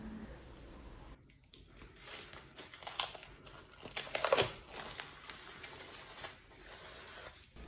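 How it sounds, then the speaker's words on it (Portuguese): Sourdough bread dough unwrapped from its covering after rising, giving soft crinkling and rustling of wrapping material with a few crisp crunchy bursts, close and fairly quiet with no talk. "Agora eu vou desembrulhar o nosso pão"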